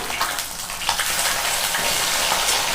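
Katla fish frying in hot mustard oil, a loud, close, continuous hissing sizzle with faint crackles, heard alone.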